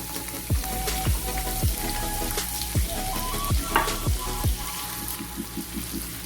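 Chopped onion frying in a tablespoon of oil in a frying pan, a steady close sizzle with scattered crackles and a few soft stirring knocks, no voices.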